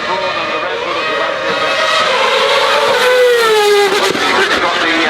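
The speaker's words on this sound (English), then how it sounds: "We've got the Red Bull RB7 here, and it's Patrick Friesecker who's driving it up there." Red Bull RB7 Formula 1 car climbing the hill at the Goodwood Festival of Speed, a loud, continuous high-revving engine whine with a rising then falling pitch sweep as it passes, crowd and ambient noise beneath.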